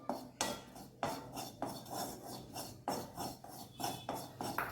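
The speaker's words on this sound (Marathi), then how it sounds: "पूर्णपणे तांबूस रंग येईपर्यंत भाजून घेऊया" A spoon scrapes and stirs flour roasting in a hot kadhai until it browns, in steady, repeated metallic strokes about once a second, close and moderately loud.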